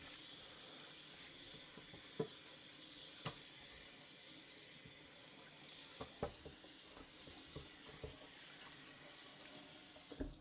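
A kitchen sink tap runs steadily, a close, even hiss of flowing water punctuated by a few soft clinks and knocks, with no voices over it.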